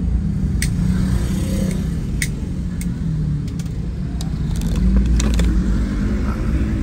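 Vehicle traffic at the Malengkeri bus and minibus terminal in Makassar: a steady, fairly loud rumble of engines and passing cars with a few faint metallic clinks, and no talk.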